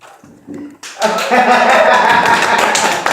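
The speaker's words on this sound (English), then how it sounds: "Can we get some hand claps or something?" Hand claps played as a sound effect in a radio studio, with a few soft taps first, then a loud, dense burst of clapping mixed with voices.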